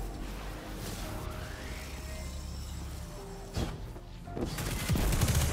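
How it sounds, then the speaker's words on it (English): Explosion in the video game Destiny 2, a loud burst arriving a beat late amid ongoing game noise and gunfire, with a second blast near the end. "oh, I love the delayed explosion."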